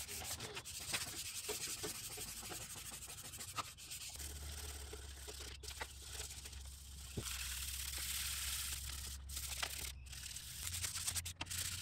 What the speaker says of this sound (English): I'm just gonna wet sand a little bit. 400 grit on a foam pan, just to bring down the clear coat a little bit